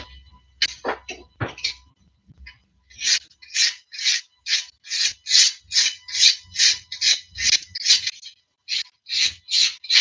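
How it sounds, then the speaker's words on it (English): A knife blade is honed on a cheap sharpening block in a run of loud, close, rasping scrapes, a few irregular strokes at first and then about a dozen even, rhythmic passes with brief gaps between them. "So what I'm using to hone my blade, it's just a sharpening block."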